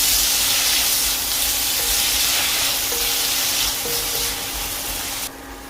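Chopped tomatoes sizzle and crackle steadily in a hot pan with cumin, a loud continuous frying hiss with a faint hum underneath.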